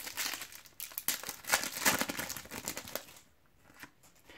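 A foil packet of football trading cards is torn open and crinkled by hand, a soft, close, quiet crackling that fades into near silence at the end.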